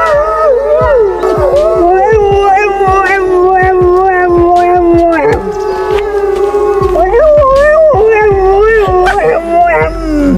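A dog howls in long, wavering, rising and falling tones, copying the howls of wolves at a zoo, close and loud, with short yips breaking in between.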